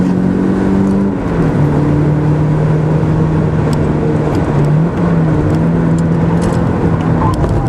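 A race car accelerates on the track at Magny-Cours, its engine droning loud and close with a steady, wavering pitch and brief dips as it shifts, while someone speaks faintly over it.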